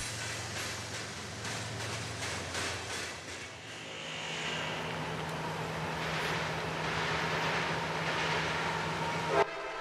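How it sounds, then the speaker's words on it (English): An empty juice and intermodal freight train rolls steadily past at Doswell, Virginia, its continuous rumble and rattle filling the scene, with a sustained horn note early on and a brief louder clank near the end. "Empty Juice and intermodal train Q141 comes south and meets a manifest who is holding at Doswell."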